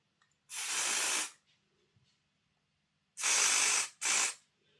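Aerosol cleaner is sprayed into the axle shafts of a Hornby Class B17 model locomotive, three close hissing bursts, one long and two short, with quiet between.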